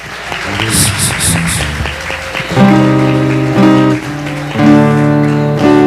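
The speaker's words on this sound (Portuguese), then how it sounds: "E as palmas glorificam o nome do Senhor e louvemos a Deus" A church congregation claps in praise, a few scattered claps giving way to rhythmic clapping alongside loud sustained music and singing.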